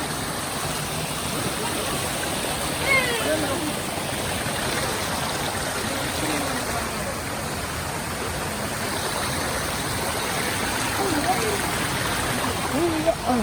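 Meenmutty Waterfalls in Kallar, Trivandrum roars in a constant, even rush of water close by, with spray in the air and faint voices now and then beneath it.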